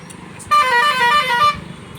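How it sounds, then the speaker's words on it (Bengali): A bus on a bridge road sounds one sustained, loud horn blast lasting about a second, set against a steady traffic rumble with no talk. "একটা বাস আসছে দেখুন"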